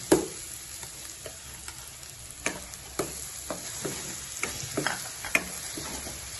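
Tomato paste hitting frying onions in hot oil for chole, a continuous soft sizzle punctuated by sharp clicks and scrapes of a spoon stirring against the pan, close and steady.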